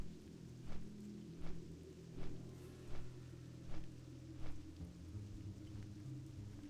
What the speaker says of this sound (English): I feel like rain in Duskwood is so uninviting.